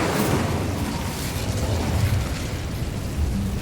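Incendio fire spell cast in the video game Hogwarts Legacy, a continuous roaring, crackling burst of flame that stays loud and dense throughout, without speech.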